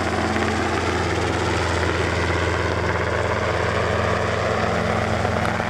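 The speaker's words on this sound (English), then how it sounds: "we've got fucking helicopters" A loud, steady mechanical drone of a helicopter close overhead, rotor and engine noise filling the whole stretch without a break.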